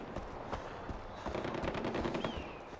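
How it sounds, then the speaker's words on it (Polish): Gunfire in the video game Far Cry 4 rattles at a distance, with quick bursts of automatic shots and scattered single cracks under a dull background hum. "ale nigdy strzały to nie jest nic dobrego"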